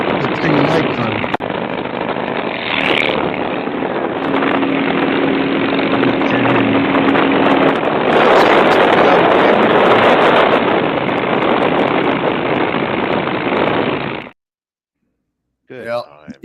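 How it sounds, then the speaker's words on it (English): A loud, rough motorcycle engine roars steadily with wind buffeting the microphone and voices talking over it, then abruptly cuts out. "the motorcycle's too damn loud."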